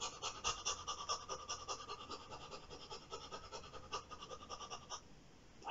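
A voice imitates a wolf panting during a shadow-puppet show, giving quick, steady breathy huffs in a close, continuous rhythm that fades slightly near the end.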